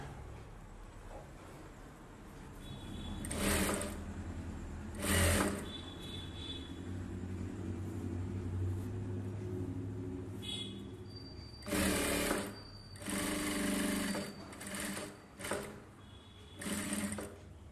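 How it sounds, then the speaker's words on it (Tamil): A sewing machine stitches the lining of a silk saree blouse in several short, loud bursts of rapid whirring close by, with quieter handling pauses between runs. "அதே மாதிரி இந்த பக்கமும் சுற்றி தையல் போட்டுருவோம்."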